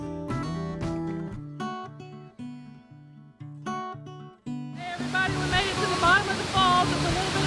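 Music plays first, then a waterfall in a gorge at Ithaca, New York takes over midway as a steady, loud, broadband roar of falling water that lasts to the end.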